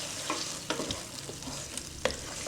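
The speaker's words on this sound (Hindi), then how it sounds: "अब इसमें 1 खाने का चम्मच अदरक लहसुन का पेस्ट ये डाल के 2 मिनट और भूनूंगी।" Mutton fries with ginger garlic paste in a pan, a soft steady sizzle broken by a few scraping stirs and clicks of a spoon, close and without talk.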